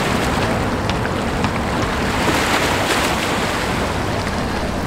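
Choppy water in New York crashes against rocks in a steady, loud wash of surf, mixed with wind buffeting the microphone and no pauses.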